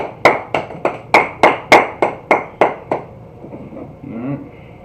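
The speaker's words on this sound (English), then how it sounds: "Alright, clap it up." About ten sharp, evenly spaced claps ring close and loud from a group gathered at a street teaching session, then stop, leaving a faint voice in the background.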